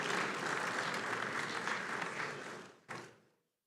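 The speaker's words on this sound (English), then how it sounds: "Would you please applaud Dr." Applause from the audience at a governors' forum, a dense steady wash of many hands clapping for a few seconds before it fades, with one last clap near the end.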